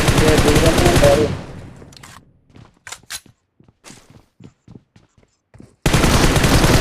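Shotgun gunfire in the mobile battle royale game BGMI: loud dense bursts of shots at the start and end, with scattered single blasts and footstep-like taps in the quieter middle.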